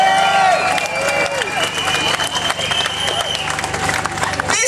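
A large outdoor crowd at a Hands Off Syria anti-war demonstration by Downing Street cheers and applauds steadily throughout, a dense wash of clapping and shouts holding at a constant, fairly loud level.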